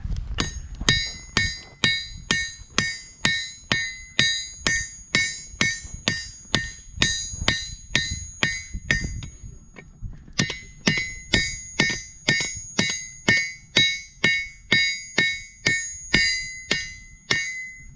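Steady, rhythmic hammer blows ring out on hot steel on an anvil, each strike leaving a bright metallic ring, with a brief pause midway before the pounding resumes.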